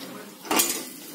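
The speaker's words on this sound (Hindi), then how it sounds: "अब मैं इसे गैस को बंद करके इसे किसी दूसरे बर्तन में रख रही हूँ।" Fried spiced potatoes are transferred into another pot in a kitchen with a brief metallic scrape and clink of a spoon against cookware, close and moderately loud against quiet background.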